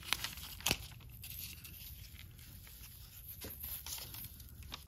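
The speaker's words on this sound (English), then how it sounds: "I always like to use a brand new X-Acto blade when I cut the rubber." A fresh X-Acto blade slices through stretched silicone mold rubber, giving a close, quiet tearing and crinkling rasp that continues steadily with a couple of sharper snaps.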